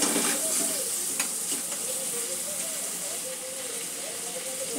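Spices and paste are mixed in a frying pan, making a continuous, moderately loud sizzle and hiss with faint stirring underneath.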